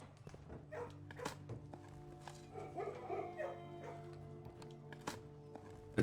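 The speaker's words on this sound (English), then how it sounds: "Hiya, dog." A dog in a video game gives a short burst of quiet yips and barks in the middle, with faint footsteps and a low steady hum around it.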